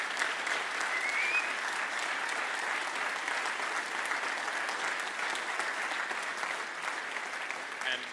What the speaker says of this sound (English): quick round of applause for Jamie.